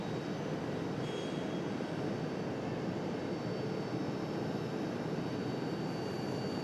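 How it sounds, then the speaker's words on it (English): A FedEx ATR turboprop arrives from New Bern at Raleigh-Durham airport, a steady, broad engine drone with a faint high tonal whine, held evenly at moderate distance with no other sounds standing out. "Here comes our FedEx ATR from New Bern."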